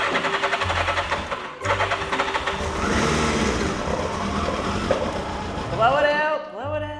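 A turbo Yamaha engine that has sat unused for 40 years cranks over in repeated rhythmic bursts while trying to start, with a brief rising sputter near the end but no sustained running.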